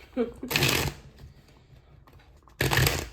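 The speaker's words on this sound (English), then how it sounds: "let's shuffle for tarot right now" A tarot deck is shuffled in two quick riffling bursts, close and crisp, with a quiet gap between them and a brief voice at the start.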